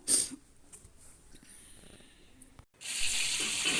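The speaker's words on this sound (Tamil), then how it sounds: "ஒரு மண்பானை அடுப்பில் வச்சுக்கிறோம் தேங்கெண்ணெய் மீன் குழம்புங்களுக்கெல்லாம் தேங்கெண்ணெய் தான் ரொம்ப டேஸ்ட்டாக இருக்கும் அப்போ தேங்கெண்ணெய் ஊற்றிக்கிறோம்" Coconut oil poured into a clay pot on a stove, a soft hissing, trickling wash that swells into a steady louder stream near the end, with faint clinks and background noise.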